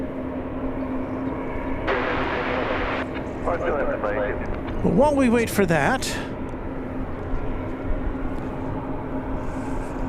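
An MD-11 airliner on the apron at DFW Airport makes a steady, droning engine hum across the whole stretch, with someone talking over it throughout.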